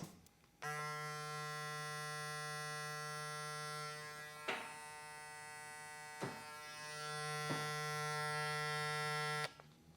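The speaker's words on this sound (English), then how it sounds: "Let's turn them both on." A steady electric buzzing hum from a StyleCraft Mythic cordless hair clipper running continuously, with a few brief clicks and knocks as it is handled, ending abruptly.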